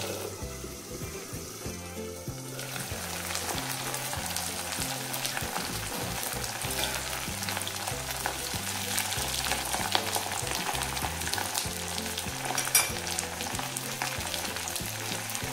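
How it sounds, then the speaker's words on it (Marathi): Curry leaves, then cumin and fennel seeds, crackling and spattering in hot oil in a pan while cooking murmura chivda, a steady dense sizzle with lid and utensil knocks throughout, no talking. "तर यात मी अगोदर कढीपत्ता टाकून घेते. असं तेल उडतं म्हणून पटकन झाकून द्यायचं."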